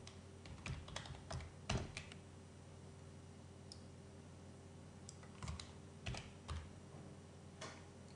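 Keys clacking on a computer keyboard while a formula is entered into a spreadsheet, in quiet irregular bursts of taps separated by short pauses.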